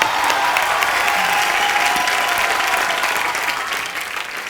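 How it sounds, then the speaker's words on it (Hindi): A studio audience at The Kapil Sharma Show, a Hindi TV comedy show, breaks into loud, sustained applause that stays full for several seconds before easing off slightly at the end, with no voices over it. "ताली।"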